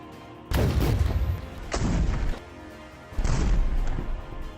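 Heavy booms from an IDF Merkava tank being blown up in Gaza fighting, three loud thudding blasts each followed by a short rumbling decay, with quieter gaps between.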